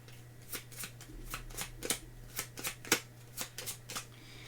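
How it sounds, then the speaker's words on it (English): Playing cards are shuffled by hand at a solo tabletop game, a steady series of close, crisp riffles and snaps repeating about every half second with no talking. "I think that's enough shuffling"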